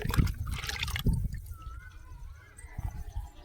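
Fermented homemade liquid fertilizer poured onto potted rose plants in summer, a close liquid splash in two short bursts followed by quieter trickling.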